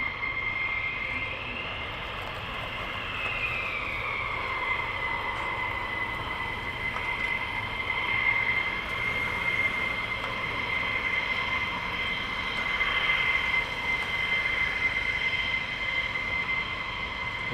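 A military jet taxiing at RAF Lakenheath airbase holds a continuous loud, steady engine roar with a piercing high whine for the whole stretch, fairly close.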